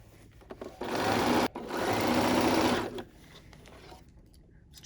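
A sewing machine stitches a fur infinity scarf in two bursts of fast, steady whirring, briefly pausing between them, then stopping into quiet room tone.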